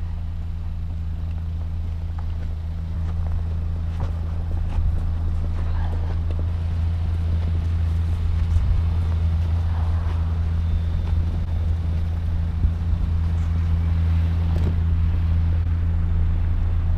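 A Kia Rio X-Line 1.6 car cruising on a road, with a steady low engine and road drone filling the cabin, constant and moderately loud throughout, with faint wind noise and occasional small bumps.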